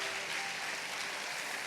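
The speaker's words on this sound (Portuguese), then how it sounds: "Dê um aplauso ao Senhor." A church congregation at a worship service applauds in a continuous, even wash of clapping, moderately distant and fairly soft, with no break.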